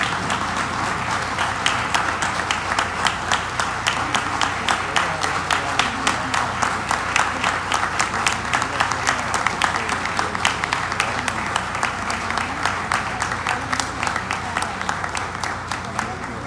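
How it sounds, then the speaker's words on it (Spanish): A standing auditorium audience applauds the Dominican Republic's vice president after her speech, dense sustained clapping that rolls on steadily and evenly, with faint voices underneath. "auditorio de pie, aplaudiendo las palabras de la vicepresidenta de la República"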